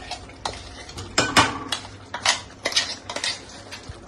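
Ground chickpeas for chole are mixed in a pot, with irregular spoon clinks and scrapes against metal close by over a faint background sizzle.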